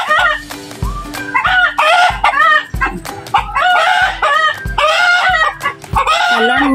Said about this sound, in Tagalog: parang nagiging bantay ko na itong mga manok na to